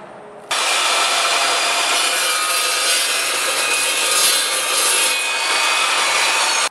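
An Evolution carbide-toothed metal chop saw cuts through a steel rod, a loud, steady, harsh grinding whine that starts abruptly after a brief lower motor hum and holds evenly for several seconds before cutting off.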